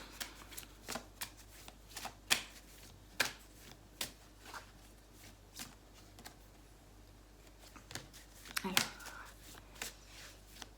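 Playing cards shuffled and riffled by hand for a card reading, a steady run of soft crisp flicks and slaps with a few louder bursts, close and fairly quiet, no talking over it.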